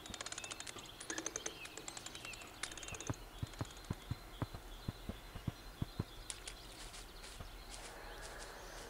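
Hooves clip-clop steadily as a horse in Kentucky Route Zero hauls a dead horse, a regular, fairly close plodding beat under sparse bird chirps and faint ambient tones.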